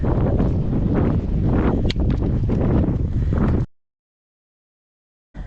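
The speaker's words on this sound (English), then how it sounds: "Seem to have found the wind." Wind gusting across a Lake District fell, Grange Fell, a loud, close rumbling buffet on the microphone lasting several seconds before cutting out abruptly to silence.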